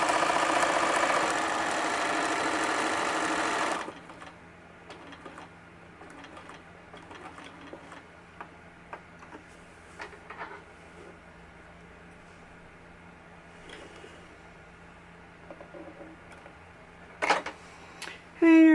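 A sewing machine runs a fast, steady stitching burst on fabric for a soft Halloween junk journal cover, then stops abruptly, leaving a quiet room with faint handling noises and small clicks.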